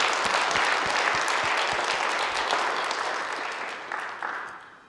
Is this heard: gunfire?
no